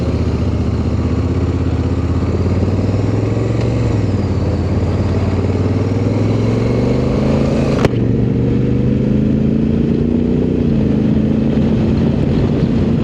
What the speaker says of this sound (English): It is so weird riding an adventure bike